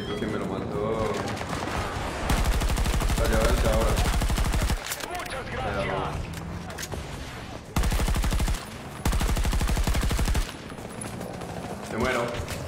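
Rapid automatic gunfire from the Battlefield video game rattles in several long, loud bursts, separated by gaps where a player talks excitedly over the game sound.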